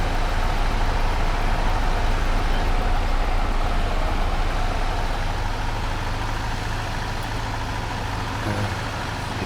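The John Deere 2280 harvester in Farming Simulator 22 drones with a loud, steady engine hum while working a large wheat field, a constant low rumble with no talk.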